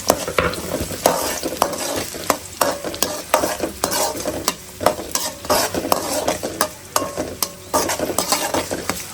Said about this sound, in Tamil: ஒரு சட்டு நம்ம வெங்காயத்தை, சின்ன வெங்காயத்தை போட்டுப்போம்.